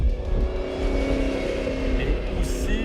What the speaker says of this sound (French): la sonorité que j'adore, c'est la sonorité du superchargeur